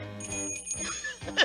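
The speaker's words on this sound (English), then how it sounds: "you let them put a bell around your neck" In a cartoon, a bell hung around a cat's neck rings out in a short, bright, tinkling burst of a second or so, heard up close and clear with no voices over it.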